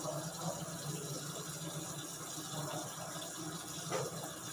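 Tap water running steadily for a hand wash during infection-control safety training, a constant broadband wash of splashing and flow with faint background talk.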